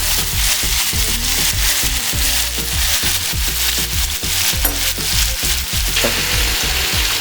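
Ground beef and tomato for tacos sizzle and crackle steadily in a hot pan, a loud, dense frying hiss broken by quick stirring scrapes throughout.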